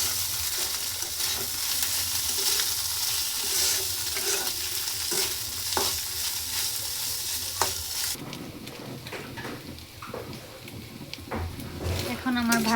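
Taki fish with onion and chili fries in a pan, giving a steady, loud sizzle throughout with occasional stirring scrapes, and the sizzle sharpens in the final seconds.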